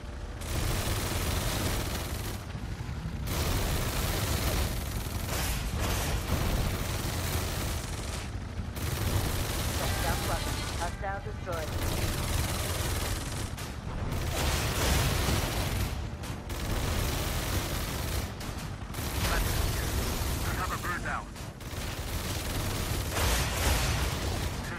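Sustained gunfire and explosions in the war video game Tom Clancy's EndWar, with dense, loud bursts of automatic fire and blasts running continuously over a heavy low rumble, broken by brief lulls.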